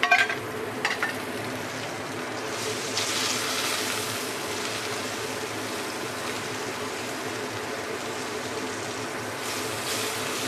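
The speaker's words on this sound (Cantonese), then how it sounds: "大家一邊爆料頭一邊煎雞啊！" Chicken and aromatics such as shallots fry in a clay pot for a Luoding black bean chicken dish, giving a steady close sizzle with stirring scrapes throughout and no talking.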